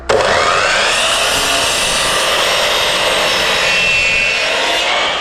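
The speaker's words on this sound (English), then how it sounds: "I just square up the edge with the miter itself instead of double cutting" A miter saw cuts ash tongue-and-groove paneling during an off-grid cabin build, giving one continuous loud whining buzz that holds steady for several seconds before tapering off.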